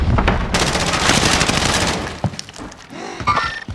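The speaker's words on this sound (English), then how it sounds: "Taking heavy fire." Heavy automatic gunfire in a Warzone zombies video game, a loud dense burst of rapid shots for about two seconds, then scattered sharp impacts and game effects trailing off.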